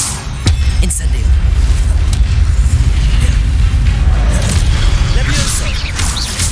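Fire spell cast in the video game Hogwarts Legacy, a loud booming burst amid dense continuous crackling and rumbling battle noise, with brief bright flares layered throughout.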